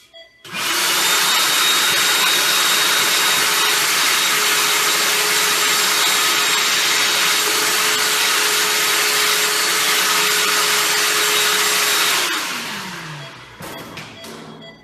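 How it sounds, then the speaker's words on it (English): A vacuum switches on and drones loudly and steadily for about eleven seconds, sucking up shaved hair while a surgical site is prepared, then winds down with a falling whine and a few clicks. "I'm going to use a vacuum to suck up as much hair as possible"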